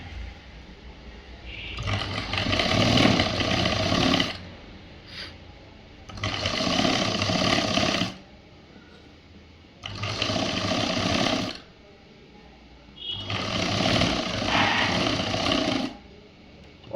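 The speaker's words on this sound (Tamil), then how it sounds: "ஒரு கை பக்கம் தைச்சாச்சு." Sewing machine stitching the sleeve of a government school uniform shirt, running in four sustained bursts of a few seconds each, separated by short pauses, close and fairly loud.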